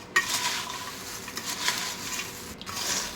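Corn chivda tossed and mixed with powdered sugar in a pan, giving a continuous dry rustling scrape of flakes against metal with a spoon, close and steady, no talking.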